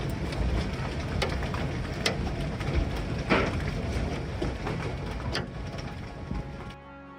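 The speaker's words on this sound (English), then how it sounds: "A major hailstorm swept across North Texas, violently shaking swimming pools" A major hailstorm in North Texas shakes swimming pools, giving a loud, steady roar of falling ice with scattered sharp impacts throughout, cutting off abruptly at the end.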